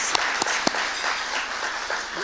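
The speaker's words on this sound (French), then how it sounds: "Je vous demande de l'applaudir." Audience applause at a notaries' breakfast talk on co-ownership, a steady wash of clapping across the whole stretch with a few sharper individual claps standing out near the start.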